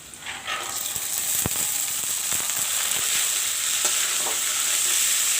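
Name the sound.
soaked chana (chickpeas) frying and being stirred in a pan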